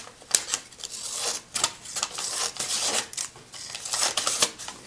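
Scissors snipping through a paper receipt at home, a run of crisp, quick cutting clicks and rustles repeated in short bursts, close and fairly quiet with no talking.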